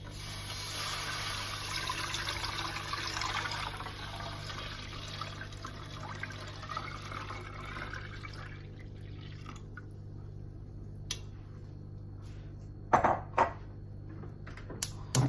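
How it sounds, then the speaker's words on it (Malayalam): Milk and water poured into a pan for Kerala semiya payasam: a soft, steady liquid pour runs for several seconds and fades, followed by quiet kitchen stillness and a few faint clinks near the end. "ഇനി നമ്മുടെ പാത്രം വെച്ചിട്ട് ഇതിലേക്ക് പാൽ ഒഴിച്ചു കൊടുക്കണം."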